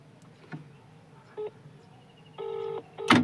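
A GSM mobile motor starter's phone line rings once on a missed call, short electronic ring tones stepping in at moderate volume with a sharper burst at the end, no talking.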